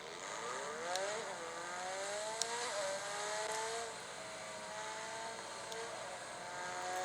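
A racing car engine from Project Cars 2 on a PS4 revs and shifts through gears, rising whines repeating as the car accelerates, steady and moderately loud without talk.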